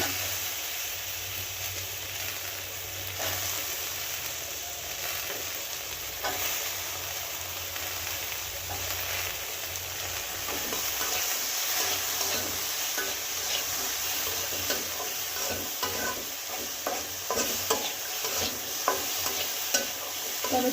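Chopped tomatoes and turmeric fry in hot oil while a spoon stirs them steadily, producing a continuous close sizzle with intermittent scraping strokes and no talking.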